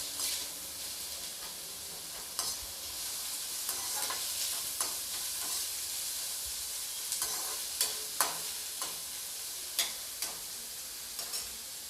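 Sliced onions fry in hot oil for bhindi do pyaza and get stirred until golden brown, a steady close sizzle broken by light, irregular scrapes and clinks of the spoon against the pan.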